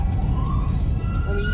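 Emergency vehicle sirens wail on a road, rising and falling tones heard at moderate distance over a steady roar of traffic.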